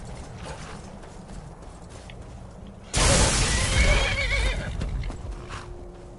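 A horse in the video game The Elder Scrolls V: Skyrim whinnies loudly and suddenly, a bright, shrill neigh bursting in after quieter background noise, then trailing off with faint hoof clatter.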